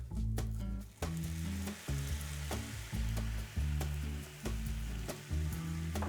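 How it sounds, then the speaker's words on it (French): Fish rolls sizzle steadily in a hot pan as Port is poured in to deglaze, a loud, continuous frying hiss with a low, repeating tonal pulse running underneath throughout. "nous pouvons déglacer avec le Porto."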